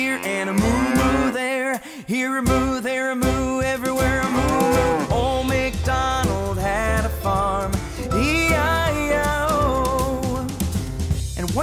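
A cow moos within a cheerful Old MacDonald Had a Farm nursery rhyme, the lowing blended into loud, continuous sung children's music with instruments throughout.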